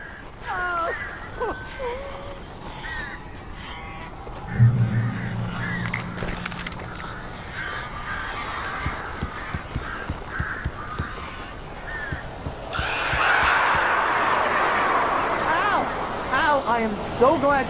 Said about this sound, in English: A couple of them got in here before I blocked the chimney. This isn't normal. These birds are weird.